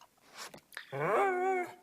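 A dog in the video game Reigns: Her Majesty gives a single drawn-out, tonal whine or howl after a couple of brief soft noises, heard close and alone with no talking.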